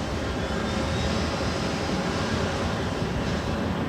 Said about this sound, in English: We also have the China Airlines 777-300ER coming in from Taipei. Flight 6 now in short final for 24 right.